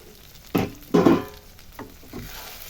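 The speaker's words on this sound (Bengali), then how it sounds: "চিংড়ি মাছগুলোকে একটু নাড়িয়ে চাড়িয়ে মিশিয়ে দিই" Prawns stirred in a pan with kochur loti (taro stolons), a few scraping stirs with soft sizzling frying between them, close and moderately loud, no voices.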